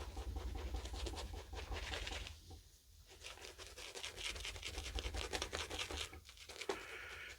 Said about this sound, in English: I'm going to work the lather.